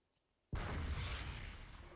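A grenade explodes in a video game during basic infantry training: one sudden, loud blast that breaks the quiet and then rumbles on in a long, dense roar.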